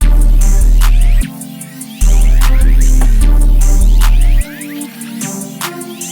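A chopped-up pluck melody pattern built in FL Studio plays over a heavy, booming bass line that cuts out and returns, with the stuttering pluck figure repeating loudly throughout.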